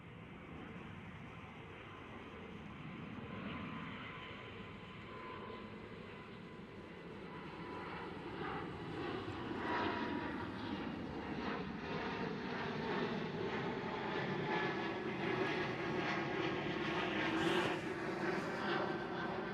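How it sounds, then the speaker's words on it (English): A KLM Cityhopper Embraer E195-E2 roars past at Schiphol, the faint jet noise slowly building and holding a steady rumble at a distance, alone without voices. "cute KLM Cityhopper E195E2."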